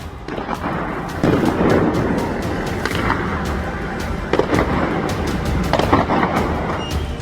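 Sharp gunshots crack repeatedly at irregular intervals as security forces fire on protesters in Iran, over a dense, rumbling background of crowd noise and commotion, some shots close and loud, others farther off.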